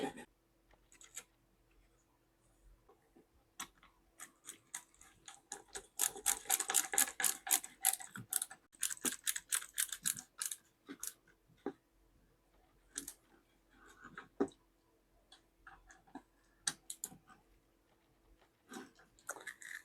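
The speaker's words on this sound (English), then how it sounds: "These are just screwing down into hard plastic" Screws are driven into a hard plastic hedge trimmer cover, giving close, faint ratcheting clicks that come in a dense burst and then as sparse ticks.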